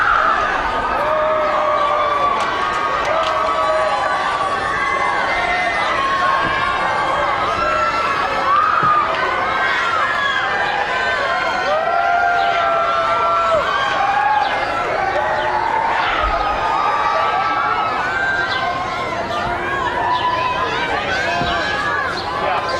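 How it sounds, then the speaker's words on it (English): Michael Jackson's fans cheer and shout as he walks out and waves, a dense, continuous crowd roar with rising voices and excited calls that holds at a steady loud level. "walking out, and the crescendo grows from his fans"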